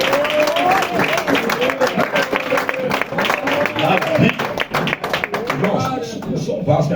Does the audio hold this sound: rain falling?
no